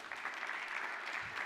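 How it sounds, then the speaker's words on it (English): A seminar audience claps together in a brief, dense burst of applause, even and moderately loud, with no voices over it. "Let's give him a round of applause real quick"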